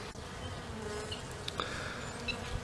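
Bees buzzing at a hive of mixed black and tiger-striped bees, a steady low drone with a few louder individual buzzes passing close, no talking.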